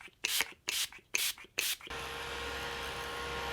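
Urban Decay All Nighter makeup setting spray is pumped in four quick, close hissing bursts, evenly spaced, followed by a steady low background hum.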